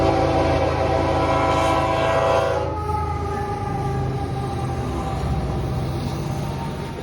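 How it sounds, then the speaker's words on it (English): A northbound CP grain freight train rolls past close by, a steady heavy rumble of wheels and cars with a sustained horn-like tone early on that drops away after a few seconds, leaving the continuous clatter alone. "northbound CP grain train 351"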